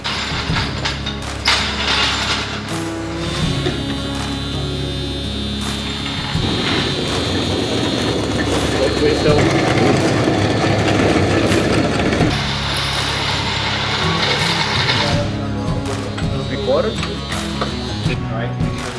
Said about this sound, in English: Right, the motor runs.